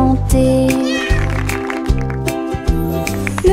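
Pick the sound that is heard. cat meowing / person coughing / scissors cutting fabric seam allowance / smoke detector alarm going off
cat meowing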